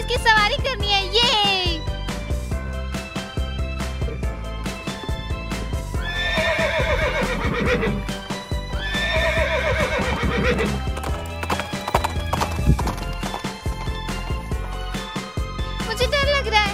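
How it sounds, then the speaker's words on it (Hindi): Horse whinnying loudly several times over steady hoof clip-clop, with a voice and background music mixed in a cartoon-style scene. "एक बड़ा घोड़ा, मुझे इसकी सवारी करनी है।"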